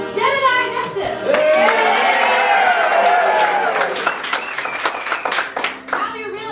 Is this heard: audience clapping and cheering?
yes